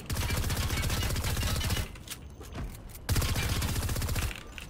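A gold P90 in Fortnite fires in long rapid bursts, a dense loud chatter of shots that stops briefly, then resumes for another sustained stream of rapid fire.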